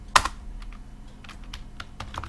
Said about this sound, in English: I'm gonna type my password